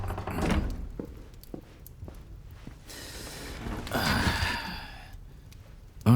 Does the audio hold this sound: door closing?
yes